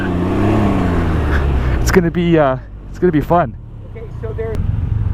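A 2019 Can-Am Ryker three-wheel motorcycle's engine drones low and steady while riding, mostly under a man's close, loud talking.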